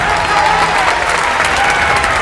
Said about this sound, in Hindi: एक जबरदस्त तालियां होनी चाहिए सर के लिए